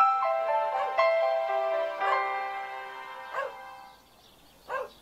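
A cartoonish dog in the video game Dude, Stop gives a series of short, tonal barks and yips, spaced irregularly over a bright musical tone before fading to quieter yelps.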